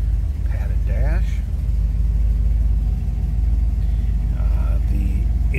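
A 1962 Buick LeSabre two-door hardtop engine idles with a steady, loud low rumble throughout, while someone talks over it.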